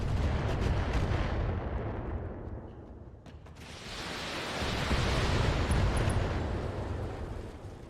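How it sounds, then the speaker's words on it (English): Heavy mech weapons in BattleTech blast continuously at enemies, a rumbling roar of artillery-like fire and explosions that dips briefly and then builds again, loud and close. "Firing on multiple enemies."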